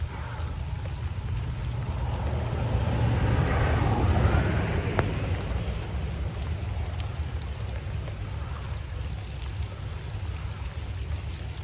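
Steady rain falls with a thunderstorm rumbling through it, a broad roll of thunder swelling in the middle and fading under the continuous downpour, heard outdoors during shaving in the rain.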